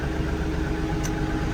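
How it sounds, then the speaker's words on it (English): Kioti NS 4710 tractor idling steadily with its cab air conditioning running, a constant low engine hum with a faint blower hiss, no talk. "You can hear, I don't know if you can hear that, but it's definitely air conditioning going."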